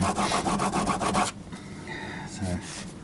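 A blade is sharpened on a coarse abrasive for a very hard Ekki wood cut, giving about a second of quick, rhythmic scraping strokes up close, followed by quieter handling and brief talk.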